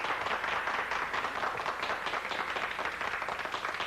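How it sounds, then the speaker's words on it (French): Steady applause from a crowd at an amateur singing contest, a dense wash of many hands clapping at once, sustained and fairly loud throughout. "Mais enfin, applaudissons-la"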